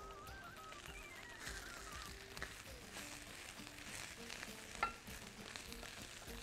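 Coriander and nutmeg being stirred in a frying pan, a soft continuous sizzle under scattered scrapes and utensil taps, with one sharper clack near the end and no talking.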